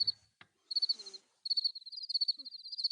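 Crickets chirp in rapid, high-pitched pulsing trills, close and clear against near silence, broken by a short pause early on.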